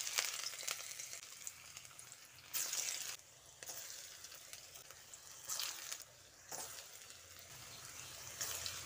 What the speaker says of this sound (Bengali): এবার পুর ভরা কাঁকরোলগুলো নিয়ে কড়াইয়ে দিয়ে দিচ্ছি।